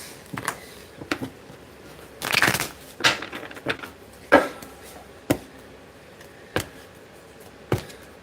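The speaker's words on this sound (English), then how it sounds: "Let me shuffle." A deck of cards being shuffled during a card reading, a series of short riffling bursts and taps spaced irregularly, close and fairly quiet with no talking.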